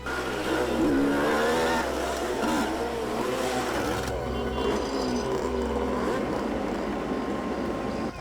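Motorbikes of a racing gang ride up beside a truck, their engines droning and revving in a dense, loud mix, with one machine's tone fading after a few seconds while others keep running.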